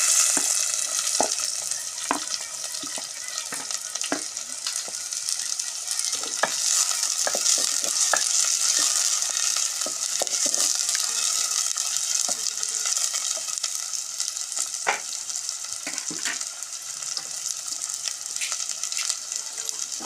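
Three medium chopped onions fry in a pan for ridge gourd curry, a steady close hiss and sizzle with scattered sharp crackles and spoon stirring throughout, no talking.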